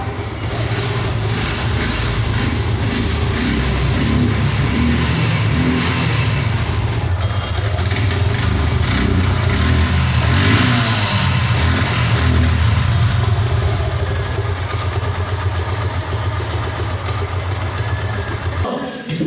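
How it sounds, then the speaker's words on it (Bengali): A Suzuki Gixxer naked 2022 motorcycle engine runs loud and close for about nineteen seconds, a steady low rumbling drone with slight swells in pitch and no voices. "চলুন বাইকটি প্রাইস সম্পর্কে জানার আগে আমরা বাইকের সাউন্ড কোয়ালিটিটা একটু শুনে আসি"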